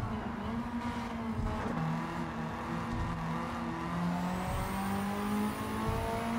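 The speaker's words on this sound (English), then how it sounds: "Just negotiated the car around that corner." A Mitsubishi Lancer Evolution VIII in Gran Turismo 7 races through a corner on the Tokyo circuit, its engine holding a sustained droning note that shifts in pitch through the turn. There is no voice over it.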